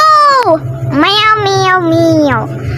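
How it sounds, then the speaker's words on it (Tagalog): Three drawn-out, wavering cat meows in the Roblox game Among Us, loud and close, following each other almost without pause over a low background hum. "Meow."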